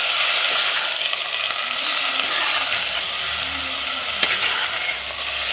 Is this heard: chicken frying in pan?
yes